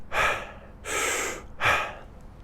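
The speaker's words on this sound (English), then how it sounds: "we do that in one swift inhale" Three deep, swift inhales in a breathwork demonstration, each a loud, airy gasp through the mouth lasting about half a second, evenly spaced and close.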